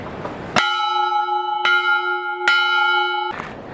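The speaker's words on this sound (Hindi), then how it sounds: "ये है घंटी।" Temple bell at Gangotri struck three times, each bright metallic clang ringing on with a sustained, shimmering tone, close and loud.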